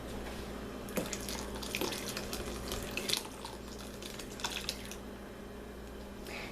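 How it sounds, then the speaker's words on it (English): Water pours steadily from a container over cut cucumbers in a bowl, a soft continuous splashing trickle with a few brighter spatters, close and fairly quiet with no talking. "you just want to pour enough water over here to cover them"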